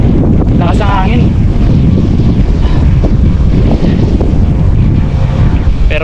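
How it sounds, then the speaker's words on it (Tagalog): Strong wind buffeting the microphone in a loud, steady roar, with a brief voice-like sound near the start. "Lakas ang hangin."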